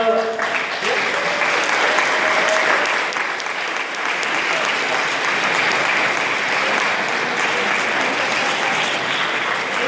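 Heavy, continuous applause from a meeting audience for a standing leadership team of state directors at a regional recreation association gathering rolls on for about ten seconds, loud and dense, with a brief voice near the start.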